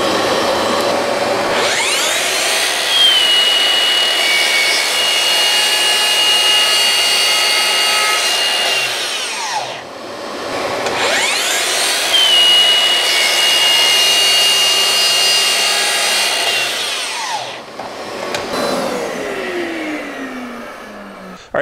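A power saw makes a cut while a Dustopper bucket-style dust extractor runs, two long whining motor cycles, each spooling up and winding down, plus a brief third burst at the end, loud and close with no speech.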